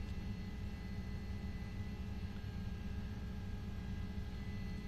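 News helicopter flying over an Oklahoma City truck chase, a steady close rotor and engine roar holding at constant loudness without a break.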